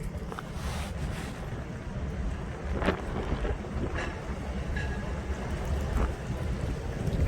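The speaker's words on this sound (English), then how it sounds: "Boy, that wind today. Yeah, wind advisory today." Gusty wind roars outdoors on a wind advisory day near a tied-down train at Erwin, a steady low rumble with mic buffeting and a few faint knocks in the distance, no talking.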